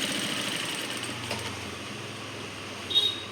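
A sewing machine stitches a shirt collar, running in one continuous steady whir with a low motor hum underneath, close and without any talk.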